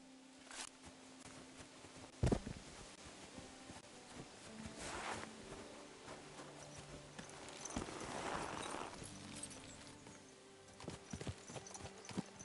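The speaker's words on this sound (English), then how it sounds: "Just the horse riding in general sucks." Horse hooves clip-clop steadily during riding in the medieval video game Kingdom Come: Deliverance II, with a brief neigh and scattered soft thuds over a faint game background.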